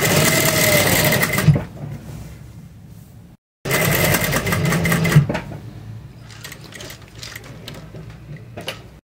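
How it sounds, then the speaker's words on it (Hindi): Sewing machine stitching along the fusing on a kurti neck, running in two loud mechanical bursts separated by a brief pause, with whirring gears and a few clicks as it slows near the end. "फ्यूजिंग के साथ साथ सिलाई लगानी है"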